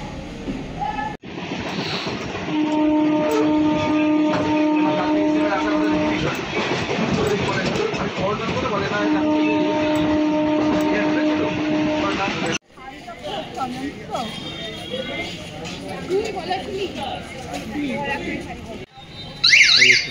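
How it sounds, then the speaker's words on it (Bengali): A local commuter train pulls into a suburban station near Rahara, its horn sounding in long sustained blasts over the rumble and clatter of the carriages, with crowd noise and announcements around the platform. "এই 5টার বজ লোকাল ঢুকছে।"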